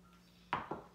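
Raw chicken dumped out of its packaging onto a cutting board while making chicken fried rice, landing as two soft, close, fairly faint thuds about a fifth of a second apart.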